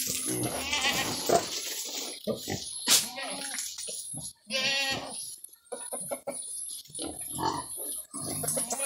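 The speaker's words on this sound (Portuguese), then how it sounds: "A porcada, eu vou dar cana pra porcada." Pigs on a farm grunt and squeal while being fed sugarcane, a mix of close animal calls with goats and people talking nearby throughout.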